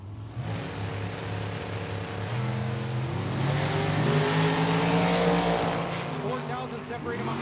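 A dragster launches and races down the Tucson Dragway strip, its engine revving loudly and climbing in pitch through the gears, with a roaring peak mid-run that fades toward the end.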